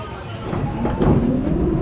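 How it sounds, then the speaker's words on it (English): A ghost train ride at the Wiener Prater amusement park in Vienna rumbles along its track at night, a steady loud mechanical roll with faint clatter that swells slightly partway through. "Okay, we go on our second ghost train."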